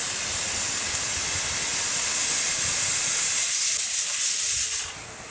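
A pressure cooker holding chicken stew lets off a loud, continuous steam hiss at close range for several seconds before it cuts off abruptly near the end.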